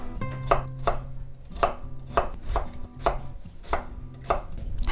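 A knife chops pear into cubes for kkakdugi on a cutting board, a series of crisp, evenly spaced thuds about one every half second, close and clear over faint background music with no talking.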